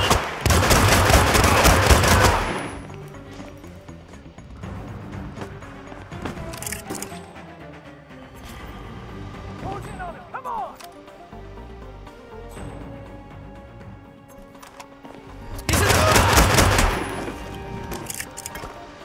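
Bursts of rapid gunfire in the video game Hitman, a dense loud volley at the start and another near the end, with quieter game ambience and scattered sounds in between.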